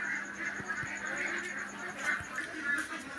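Farm ducks being fed quack in a dense, overlapping chorus close by, with a few sharp knocks cutting through the steady calling.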